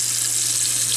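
Water runs steadily from a hotel bathroom sink tap, a continuous close splashing hiss with a low hum underneath and no voices.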